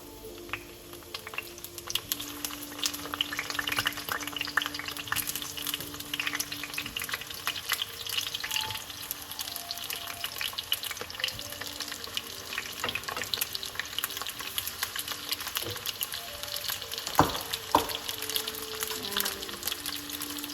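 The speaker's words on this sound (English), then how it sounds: "I'm going to add these tomatoes face down to get brown on the one side" Green tomatoes fry face down in hot oil in a pan, a steady close sizzle with scattered crackles and occasional clinks from a utensil.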